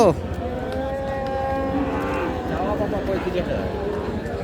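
A cross Friesian cow at a cattle market moos in one long, drawn-out low call, with crowd noise and speech around it.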